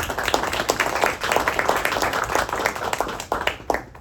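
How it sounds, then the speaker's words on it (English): An audience claps and applauds after a speech, dense steady clapping from many hands filling the room, fairly loud throughout and tapering slightly at the end. "Round of applause, please."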